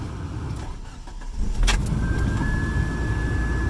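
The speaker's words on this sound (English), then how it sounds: "we are going to start our car" A car engine cranks and catches at about one and a half seconds, then settles into a steady idle that hums through to the end. It is an overheating engine, with a thermostat being replaced.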